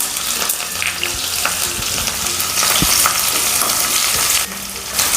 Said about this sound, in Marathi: मोहरी टाकली मी मोहरी तडतडली